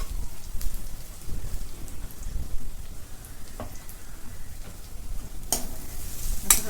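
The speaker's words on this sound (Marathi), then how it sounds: "आता याच्यामध्ये बारीक चिरून घेतलेला कढीपत्ता टाकून घेते" Finely chopped curry leaves sautéing with fried onions in a pan: a soft, low crackling sizzle with scattered stirring scrapes and a few sharper clicks near the end, fairly quiet and close, without speech.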